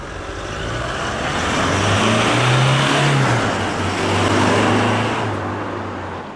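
A Toyota Hilux GUN125 with its stock muffler runs at mid speed, a steady engine and exhaust drone that rises slightly in pitch and swells twice, close and continuous with no talk.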